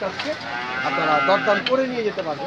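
A cow at a busy weekly livestock market in Aronkola, Ishwardi, Pabna, gives a long, loud, drawn-out moo, close by, while someone talks over it.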